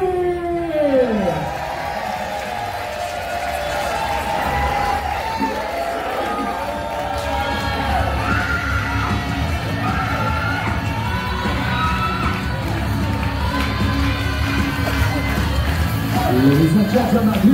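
A Muay Thai fight crowd cheers and shouts continuously, with a rising whoop and siren-like noise at the start and end. Voices carry over the din, and the noise swells toward the close.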